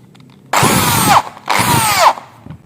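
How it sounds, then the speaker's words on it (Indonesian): Power drill boring into wood, two loud close bursts of whining motor and grinding bit, each lasting well under a second with a short pause between. "kita siapkan bor"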